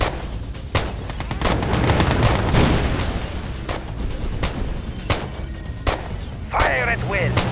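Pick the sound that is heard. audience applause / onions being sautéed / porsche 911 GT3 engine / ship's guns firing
ship's guns firing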